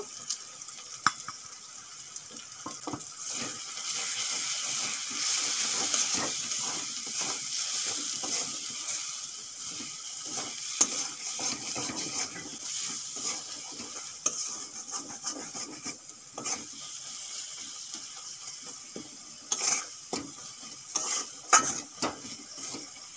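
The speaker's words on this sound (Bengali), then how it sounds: "গুঁড়ো মশলা দিয়ে আমি 2 মিনিট ভেজে নিয়েছি" Ground spices (coriander, Kashmiri chilli, cumin, turmeric, hot chilli powder and salt) frying with chicken in a pan for a chicken kosha, a steady soft sizzle with scraping stirring strokes and occasional clinks, close and unaccompanied by talk.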